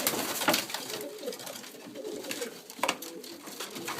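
Pigeons coo softly in a breeding loft, low throaty murmurs repeating from several birds at close range, with a couple of sharper sounds and faint background voices.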